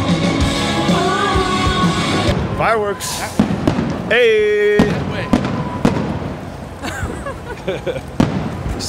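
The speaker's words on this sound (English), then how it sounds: "Fireworks." Loud fireworks bursting and crackling near a crowd at Jackson Hole, with people talking and yelling over the booms.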